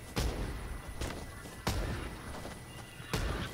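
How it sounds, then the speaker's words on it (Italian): Gunfire in the battle royale game Fortnite, with about four sharp, loud shots spaced irregularly, each a broad burst with a short tail over a steady background of game ambience. "C'è qualcuno che spara"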